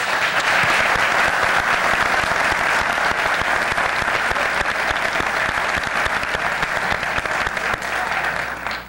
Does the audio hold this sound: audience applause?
yes